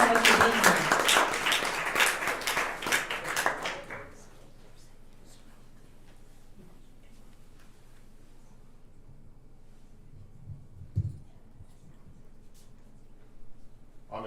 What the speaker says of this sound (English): let's keep it clapping for Owl